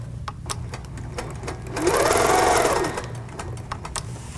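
Sewing machine stitching fabric in a quilting setup, a fast mechanical rattle that swells loud for about a second in the middle, with faint ticks and hum around it.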